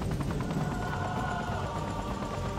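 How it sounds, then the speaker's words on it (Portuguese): A helicopter in the video game Freedom Fighters, a steady loud rotor and engine drone mixed with game noise and scattered gunfire-like bursts, continuous throughout without speech. "O helicóptero vai tentar me atrapalhar."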